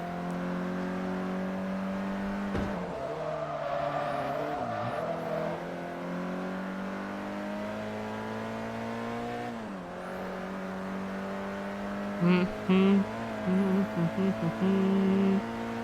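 Abarth 500 engine in Forza Motorsport 3 racing at full throttle, a steady high-revving drone with gear changes and pitch shifts, plus a burst of tire or impact noise near the end, no voices.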